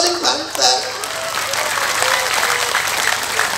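Audience applauding at an Islamic religious sermon gathering, a sustained wash of clapping from a large crowd that swells and holds steady, with a voice briefly over the start.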